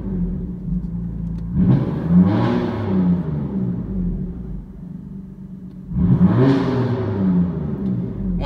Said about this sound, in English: the valves are now open. You hear immediately the sound change, and that is the M-Performance exhaust system.